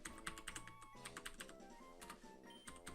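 Quick, uneven clicks of keys being pressed on a computer keyboard as a name is typed, close and fairly quiet, with no voices.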